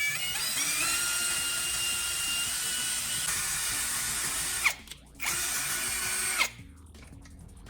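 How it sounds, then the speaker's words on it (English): A power drill bores a centered hole straight through a small round wooden dowel, running steadily and loud at close range, then briefly bogging and stopping twice before trailing off near the end. "I took a small round wooden dowel and drilled a centered hole straight through it."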